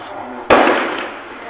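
A single sharp gunshot crack bursts out loud during a shooting in the street, cutting through a background hum and then slowly decaying over the next second.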